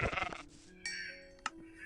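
Sheep bleating in the video game Minecraft: a short, fairly loud bleat follows an opening burst of other game noise, with game sounds continuing quietly underneath and no talking.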